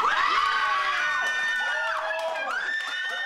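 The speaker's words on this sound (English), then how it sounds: "The Tucson singer had his family cheering so loudly the whole neighborhood could hear." Family cheering loudly at home, a burst of excited shrieks, whoops and shouting voices from several people, close and sustained.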